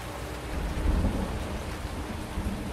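Steady heavy rain with a low rolling rumble of thunder swelling near the middle, ambient weather in the farming game Farming Simulator 19, continuous and fairly loud with no voices.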